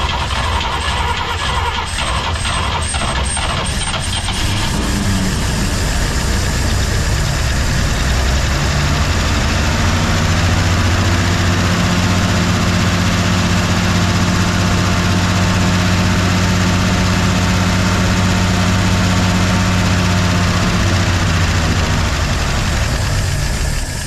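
A 1953 Chevy 6400 truck fresh off a western farm runs in a loud, steady, rough idle with a deep throbbing rumble. The sound is continuous and close by, and a clattering knock lies under it after a brief uneven start.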